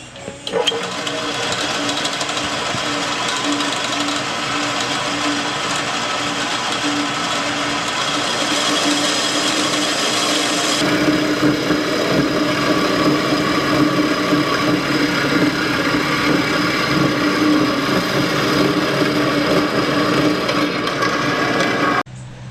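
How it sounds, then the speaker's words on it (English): A bandsaw cuts through steel rebar, giving a continuous, steady mechanical whine and grinding drone for over twenty seconds, shifting in tone about halfway, close and fairly loud with no talking. "And we'll do that on the bandsaw."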